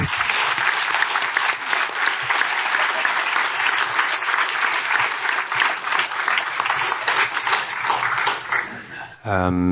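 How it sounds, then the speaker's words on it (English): An audience at a recovery-group talk applauds a speaker, a strong, continuous burst of clapping that stays loud and steady before cutting off near the end, where a brief voice begins. "I would like us to give another round of applause for Isabell."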